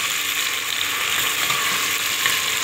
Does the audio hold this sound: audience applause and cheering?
no